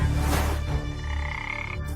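A frog croaks close by in a low, rasping, drawn-out call, with no voices.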